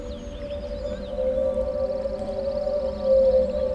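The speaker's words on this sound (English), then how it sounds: "And that's an air raid siren." Air raid siren in the video game Riven, a long sustained wailing tone held steady at a distance over a low ambient rumble, swelling slightly louder toward the end.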